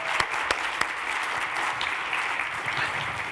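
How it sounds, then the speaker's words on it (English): Audience applause at an App Promotion Summit event, a room of people clapping steadily with a few sharper individual claps standing out, moderately distant and sustained throughout. "So a round of applause to you guys,"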